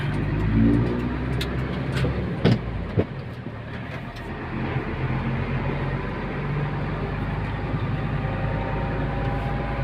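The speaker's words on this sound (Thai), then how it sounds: "เราก็จะออกถนนใหญ่ รถก็จะเยอะๆหน่อยนะครับท่านผู้ชม" Cars in heavy traffic on a main road pass close by, with a continuous loud engine rumble, swells of accelerating motors and a couple of brief knocks, and no voices.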